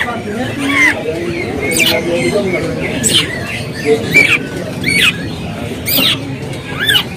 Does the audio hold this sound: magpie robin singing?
yes